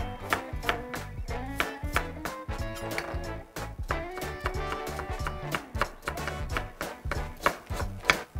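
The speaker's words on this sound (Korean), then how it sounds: "당근은 채쳐주시면 돼요." A knife julienning carrots into thin strips on a cutting board for egg laver rolls, rapid uneven chopping taps close by, with a few short pauses and faint kitchen background.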